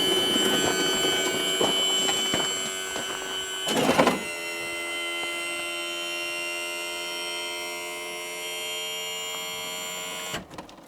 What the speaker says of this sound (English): go ahead and reach up and hit the trim button on the motor and trim the motor up.